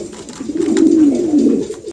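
A pair of pigeons coos in a low, rolling, continuous murmur, close and fairly loud, with no voices over it.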